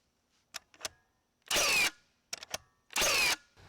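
Two sharp, loud bursts from a Milwaukee M18 Fuel cordless framing nailer firing into treated lumber, each shot preceded by small clicks and handling noise, with no motor rev-up between them.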